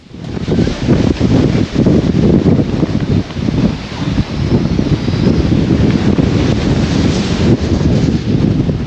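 Storm wind gusts of about 80 knots roar steadily and loudly against the microphone near moored boats, a dense sustained blast with brief surges and no letup.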